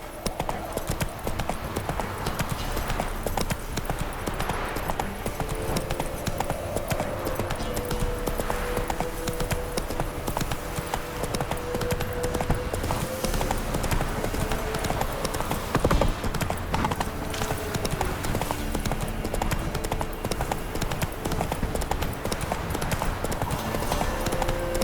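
Galloping horse hooves in The Witcher 3, a fast continuous clip-clop pounding throughout with game ambience and a voice briefly over it.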